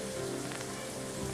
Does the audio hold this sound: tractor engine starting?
no